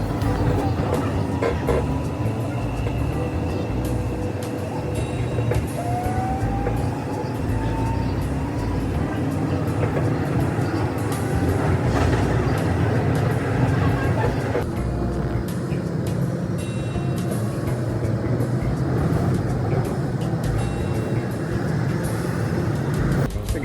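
Metro train ride heading to Metro Center, a steady loud rumble of wheels and motors running throughout with a brief rising whine early on and a shift in the drone midway.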